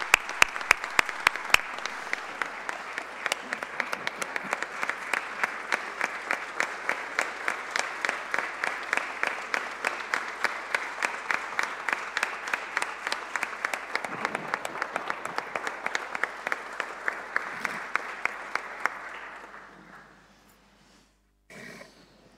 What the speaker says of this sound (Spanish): Me permito pedirles que cerremos esta parte con un sentido aplauso.